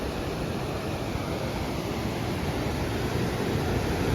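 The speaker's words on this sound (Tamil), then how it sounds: "தண்ணி எவ்வளோ ஃபோர்ஸாக போயிட்டுருக்குன்னு மட்டும் பாருங்கள்" Water released from Mettur Dam rushes forcefully down the river in a steady, broadband roar, loud and unbroken throughout with no voices.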